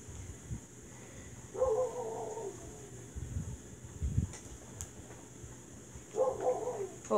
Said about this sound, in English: Let me see what's going on with the dog. She's barking.